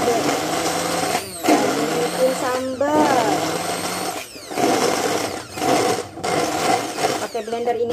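Blender grinding chilies for sambal balado, a loud whirring motor that runs in bursts with short stops and pitch shifts as the load changes, with voices talking over it.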